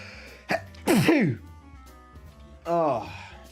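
A person sneezes once, close and loud, preceded by a sharp breath and followed by a brief vocal sound and quieter noises.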